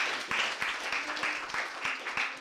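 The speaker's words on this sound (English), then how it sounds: "give a round of applause" A small group applauds with light, loose clapping, some individual claps standing out in an uneven rhythm, fairly quiet and close.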